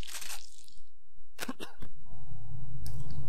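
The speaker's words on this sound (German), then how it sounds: "Ganz kurz gehustet." A person gives a brief, close cough, a short sharp burst in the middle of a quiet passage with game sounds in the background.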